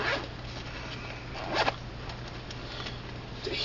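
A zipper on a PlayStation 1 game carrying case is pulled open in one steady, close rasping run, with a brief louder burst midway and another tug near the end.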